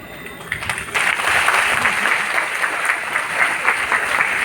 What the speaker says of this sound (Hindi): आपकी इस कविता पे आप अपनी तालियों की मोहर लगा दीजिए।